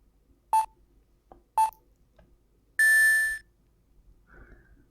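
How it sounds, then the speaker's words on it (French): Two short electronic beeps in the video game Phoenix Wright: Ace Attorney Trials and Tribulations, then a longer sustained higher tone, clean and close with quiet gaps between them. "on démarre tout de suite avec un bip de l'enfer"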